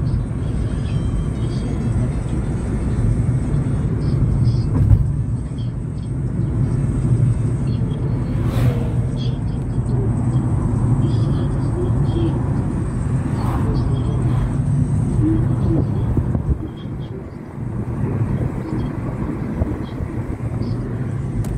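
A car drives across the Don river near the stanitsa of Veshenskaya, giving a steady, continuous road rumble and engine drone heard from inside the vehicle throughout.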